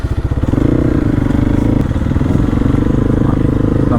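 A Hero Xpulse 200 motorcycle rides along a rural road in Northeast India, its single-cylinder engine thumping loud and close with a steady pulsing rhythm that rises slightly as it pulls ahead.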